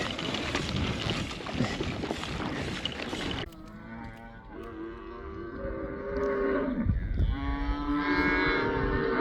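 Cattle mooing loudly and repeatedly beside a sandy outback road in Australia, long drawn-out bellows close by over steady wind noise, following a burst of rough broadband rumble.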